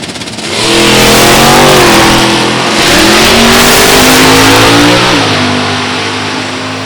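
A Corvette and a Mustang drag racing at Beech Bend roar past in a loud, close pass, their engines climbing through the gears with rising pitch, then fading slightly as they move down the strip.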